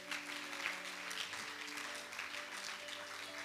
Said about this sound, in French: Acclame pour Dieu, bien-aimé.